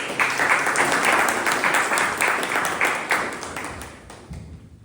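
A Toastmasters club meeting audience breaks into a round of applause, loud and close at first with distinct individual claps, then gradually thinning and fading out toward the end.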